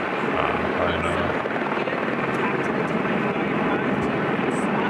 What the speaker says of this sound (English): All of a sudden it changed because the helicopter's sound?